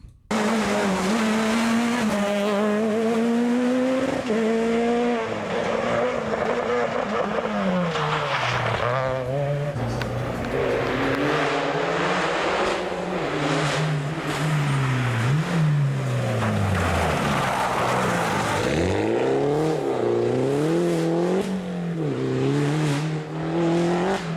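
French rally hot hatch engines roar loudly and continuously, revving up and down through gear changes with occasional tire squeal, close and sustained throughout.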